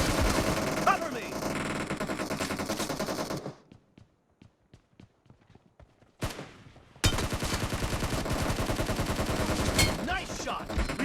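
Rapid automatic gunfire in the video game BGMI, dense bursts of shots that stop for a few seconds with scattered single shots, then resume just as loud.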